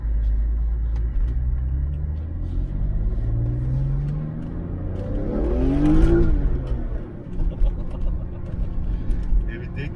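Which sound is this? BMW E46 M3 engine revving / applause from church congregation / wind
BMW E46 M3 engine revving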